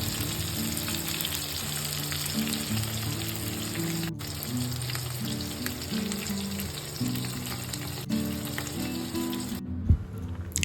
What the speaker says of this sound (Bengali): মাছগুলো উল্টে পাল্টে ভেজে নেব